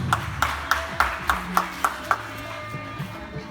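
A few slow, evenly spaced claps ring out near and moderately loud, about nine sharp strikes that trail off, at a Talent Voice a cappella singing contest as a candidate's score is announced.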